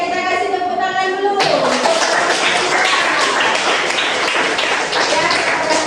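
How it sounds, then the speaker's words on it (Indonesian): Classroom applause for a student group in a seventh-grade social studies lesson breaks out suddenly after a sustained tone, with dense, continuous clapping from many pupils at close range, loud and steady to the end. "Oke, kita kasih tepuk tangan dulu."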